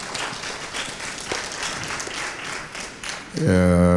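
Applause from a studio audience at a French spelling-competition TV show, dense steady clapping for about three seconds before a sustained musical tone cuts in at the end.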